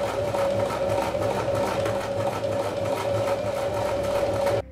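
A sewing machine runs steadily, stitching a strap for a DIY pigeon flight harness, with a close, even mechanical whir and no pause until it stops right at the end.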